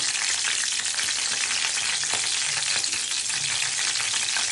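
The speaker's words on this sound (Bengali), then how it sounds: "একটা রসুনগুলো এভাবে লাল লাল করে ভেজে নেবে।" Garlic cloves fry in hot oil until reddish for a brinjal bhorta, giving a steady, close, even sizzle with faint stirring scrapes throughout.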